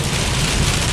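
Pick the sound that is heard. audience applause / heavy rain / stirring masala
heavy rain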